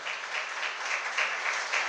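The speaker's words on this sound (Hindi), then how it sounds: "बहुत अच्छी तालियों के साथ, अच्छी गड़गड़ाहट के साथ, 5 सेकंड तक गड़गड़ाहट बटनी चाहिए" An audience at a religious sermon in Ahmedabad applauds together, a dense continuous wash of clapping at moderate loudness that stays even for the full two seconds.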